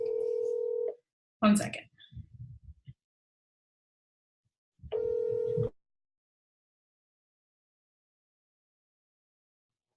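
A telephone call is placed at home with a dog nearby: a steady dial tone sounds for a moment, then stops for a burst of voice and noise, and a second matching tone follows, moderately loud and close.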